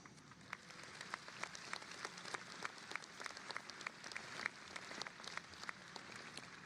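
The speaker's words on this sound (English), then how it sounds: "Give yourselves a round of applause." Graduates and guests at a university commencement ceremony clap together, a soft, distant patter of many hands with scattered sharper claps standing out, steady and continuous with no talking.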